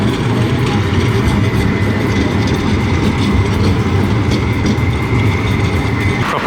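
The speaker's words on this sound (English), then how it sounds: "Here's one of the trams, as you can see." A brand-new city tram rolls past on a Luxembourg street, its steady loud rumble and rail clatter filling the scene, close by and with no talk over it.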